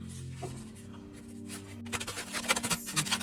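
Cards being shuffled, a soft rubbing at first, then a quick burst of papery riffling flutters close by.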